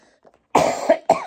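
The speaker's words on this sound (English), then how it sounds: "I don't know why I have a cough today." A short, close cough in two or three harsh bursts, loud after near silence, with no speech around it.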